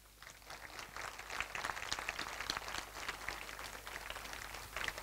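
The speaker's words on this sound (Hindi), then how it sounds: "बजाओ ताली।" A group at a collective meditation session applauds, producing a steady, moderately faint burst of many hands clapping together for several seconds.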